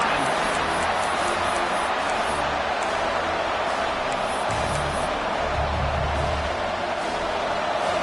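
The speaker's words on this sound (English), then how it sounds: "And this crowd coming to life here, trying to help the defense get a stop" A college football stadium crowd at a game against Florida roars steadily and loudly on a third down, a dense continuous wall of cheering and noise with talk mixed in throughout.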